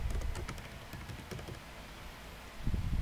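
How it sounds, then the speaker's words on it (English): A computer keyboard is typed on in a quiet room, with a quick run of soft, light keystrokes followed by a short pause and a final burst of taps. "Here I'm going to type email address."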